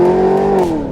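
A 2015 Holden HSV Clubsport R8 accelerates hard from standstill toward 100 km/h, its engine note loud, close and steadily rising as one continuous pull with no talking.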